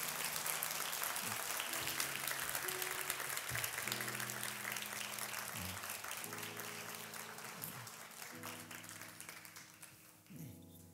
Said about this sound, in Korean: 더 큰 박수로 끝까지 나올 때까지 해주세요